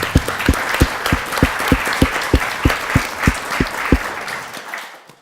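An audience at a forestry lecture welcoming a speaker panel with sustained applause, dense clapping with some steady rhythmic claps, close and loud, fading out at the end.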